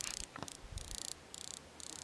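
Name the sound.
butterfly wings flapping, clicking buzz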